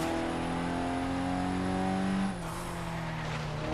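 A rally car in the racing game Forza Horizon 3 accelerates hard, its engine revving in a steady loud drone that climbs, then drops sharply as the gear shifts and the revs pick up again.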